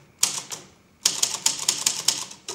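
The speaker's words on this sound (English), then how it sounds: "it would be a lot more authentic to actually use a typewriter" Typewriter typing album liner notes: two quick keystrokes, a pause, then a brisk run of sharp, close metallic key strikes in an uneven rhythm, with no talking.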